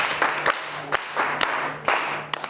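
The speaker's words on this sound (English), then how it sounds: "Clap for her." Children in a classroom at a child care trust clap for a classmate, giving a few loose, uneven bursts of hand claps over light room noise.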